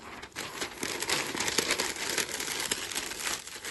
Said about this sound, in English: And I made that by taking a sheet of paper,